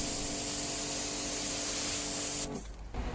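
Snow foam spraying onto a Mercedes E220d during a wash, a loud continuous close hiss that cuts off abruptly near the end, leaving brief quieter spurts.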